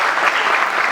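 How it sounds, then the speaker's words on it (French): Dense, steady audience applause fills the room at a regional development meeting held by a bank, many hands clapping loudly and evenly throughout without pause. "Vos applaudissements."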